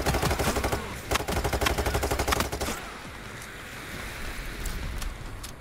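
Gunfire crackles in Payday 3, a dense rapid burst of automatic shots for about three seconds that then drops to a quieter rumble of distant firing and ambient noise.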